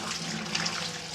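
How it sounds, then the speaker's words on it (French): Tap water runs steadily into a large watering can, a short continuous splashing pour at moderate level with no voices. "Je rajoute 1 litre d'eau du robinet."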